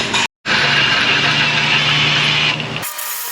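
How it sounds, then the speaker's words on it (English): A drill bores out a rusted bolt in an auto repair shop, with cutting fluid on the bit: a loud, steady grinding whir that runs for nearly three seconds after a short gap, then cuts out sharply. "So the only fix for this is to drill it all the way out"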